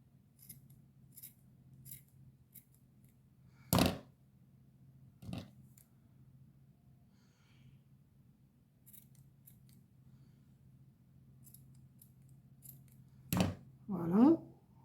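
Scissors snip through wool hair on a small doll ornament, a few sharp isolated cuts spaced seconds apart, close and clear in a quiet room.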